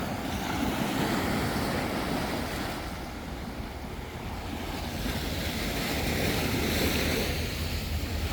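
Large ocean waves surge onto Mataró beach outside Barcelona, a steady close roar of surf rising and falling, with gusty wind buffeting the microphone and no voices.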